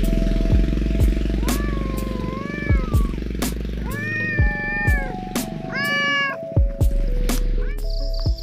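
A kitten, one of a litter of four on an oil palm plantation, gives repeated close, loud meows that rise and fall, with a low engine-like rumble running underneath.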